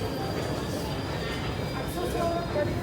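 An MTR Q train pulls into Shek Kip Mei station, a steady rumbling roar with a faint high whine that holds throughout at close range.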